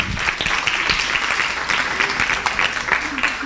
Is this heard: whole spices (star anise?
no